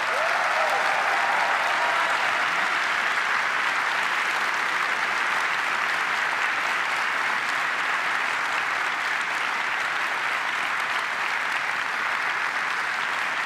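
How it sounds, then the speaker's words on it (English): A large audience at Apple's WWDC 2019 keynote applauds the Apple team in a sustained, even roar of clapping that fills the hall for over thirteen seconds without letup. "Let's give them a round of applause."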